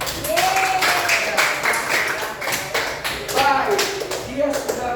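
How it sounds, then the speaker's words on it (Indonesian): A classroom audience of students claps for a few seconds after a reading aloud, with quick scattered hand claps and voices chattering over them. "Tepuk tangan dulu."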